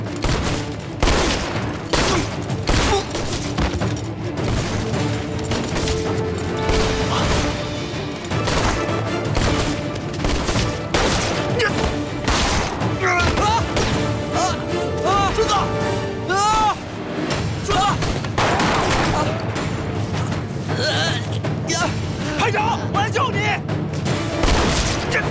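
Sniper shots and machine-gun fire ring out in an anti-Japanese war film battle, dense rapid bursts and sharp cracks rattling continuously, mixed with shouting voices.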